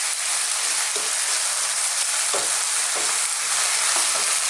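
Chicken and mushroom fried rice stir-fries in a wok, sending out a loud, steady sizzle with periodic scraping and tossing sounds from stirring.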